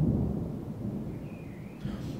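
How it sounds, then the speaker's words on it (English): A deep rumble of thunder rolls low and steady with a faint rainy wash on top, a short stormy effect heard alone without any voices. "that's what all the thunder and lightning must be about"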